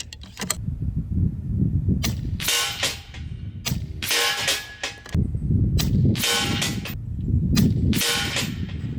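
Air rifle firing 44 grain FX Atomic pellets through a Discovery Optics ED-PRS 4-20x52 long-range scope, several sharp cracks at irregular intervals over steady outdoor background noise, close and loud.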